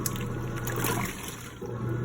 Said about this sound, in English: So it automatically brings more water in if it wants to add more